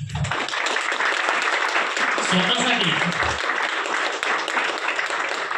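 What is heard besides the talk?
audience applauding loudly for themselves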